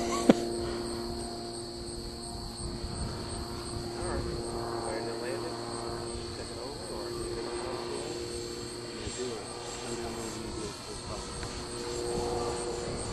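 Electric Extreme Flight 88-inch Edge 540T RC airplane climbing at full throttle on its maiden flight, a steady high-pitched motor and propeller whine holding over several seconds, moderately distant, with faint wind noise.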